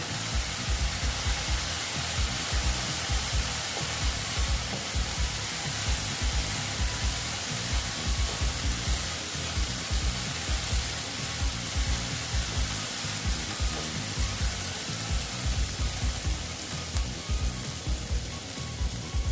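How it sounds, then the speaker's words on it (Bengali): Pabda fish masala sizzles steadily in hot oil as it is fried down with turmeric, a continuous loud hiss and crackle throughout with no talk. "দেখো হলুদ দিয়ে আবার আমি ভালো মতন কষিয়ে নেবো"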